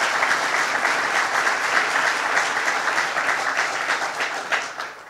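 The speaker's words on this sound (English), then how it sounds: "Let's give him a round of applause." An outdoor audience at Sunken Meadow State Park breaks into sustained, dense applause of many clapping hands, holding steady for several seconds before fading toward the end.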